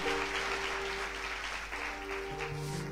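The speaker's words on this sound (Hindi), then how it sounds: "ताली बजा के प्रभु को धन्यवाद दे सकते हैं आप लोग।" A church congregation at a Hindi sermon applauds in thanks to the Lord, sustained distant clapping spread evenly over a low hum from the hall's sound system.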